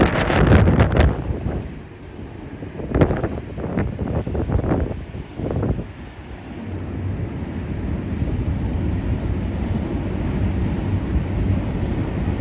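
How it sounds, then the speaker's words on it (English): Strong wind buffets the microphone in continuous low rumbling gusts, with a few louder bursts early on, out in the open on the deck of the cruise ship Carnival Glory. "overlook the wind because it is rather windy today"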